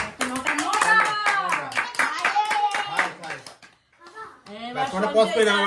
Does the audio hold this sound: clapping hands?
yes